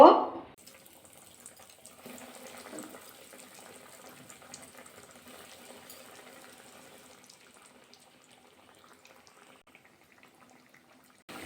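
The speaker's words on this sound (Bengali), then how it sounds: "তেলটা ভালো করে গরম করে নিয়েছি এবার তেলের মধ্যে ছেড়ে দেব" Cabbage chops fry in hot white oil in a pan, a faint, steady sizzle and crackle that runs on after a brief louder splash at the start.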